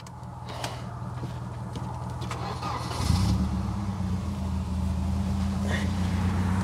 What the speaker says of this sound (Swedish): vi ska få höra varvstoppet